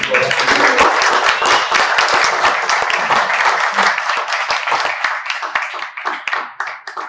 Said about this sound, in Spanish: Me encantaría rendirle un aplauso.